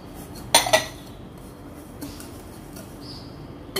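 A utensil stirring brown and white sugar together in a bowl for chocolate crinkle dough gives a sharp scraping clink followed by a few lighter taps, close and alone.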